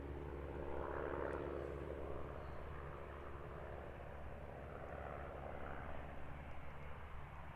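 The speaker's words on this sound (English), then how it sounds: "You're looking at easyJet flight 2857, intersect departure off to Aberdeen, Airbus A319." An easyJet Airbus A319 jet departs London Gatwick, its engines producing a steady, moderately distant roar and rumble that holds evenly throughout, with no voices.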